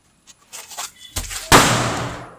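During Vishu, a firecracker bursts outdoors with one sharp, loud crack that decays into a rushing tail, following a few faint scattered sounds.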